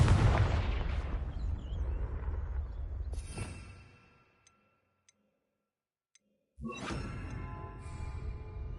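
A Confringo blasting curse erupts in Hogwarts Legacy with a loud, dense burst and rumbling tail that fades into near silence, broken by a few faint ticks, before another loud blast of magic cuts in.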